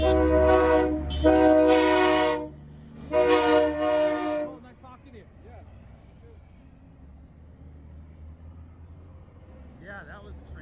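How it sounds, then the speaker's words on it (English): Two long, loud blasts of a train horn close by, separated by a short gap, followed by quieter background noise and a few words from a person speaking. "Yeah, that was a train horn"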